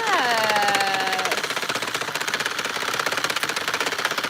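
A power drill runs steadily to spin crochet work faster, a continuous buzzing motor whine with a rapid rhythmic chatter that starts with a descending pitch sweep and then holds steady.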